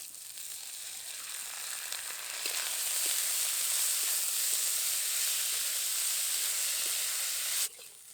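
Washed Gobindobhog rice hits a pan of lightly fried onions, and the steady sizzle jumps louder as it goes in, crackling continuously for several seconds before cutting off abruptly near the end.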